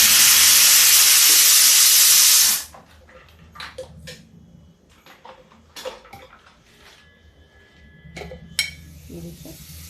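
Fennel powder and kalonji hit hot oil with a loud hissing sizzle that cuts off after a couple of seconds, followed by quieter scattered crackles, clinks and stirring sounds.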